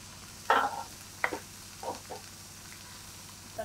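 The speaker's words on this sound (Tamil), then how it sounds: "மொத்தமாக அது கொதிக்கிறது" Squid curry cooks in a pan, giving soft sizzling bubbles and a few brief stirring scrapes that come in short bursts over a quiet background.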